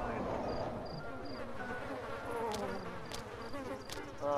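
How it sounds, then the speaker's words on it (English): Bees buzz steadily around a beehive in the Ghost Master video game, a continuous close insect drone with faint high chirps layered over it. "Ghosts, we're not big fans of bees."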